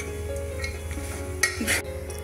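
A spoon scrapes and stirs dry fruits through thick jaggery syrup in a pan, soft continuous scraping with a couple of sharper clinks near the end.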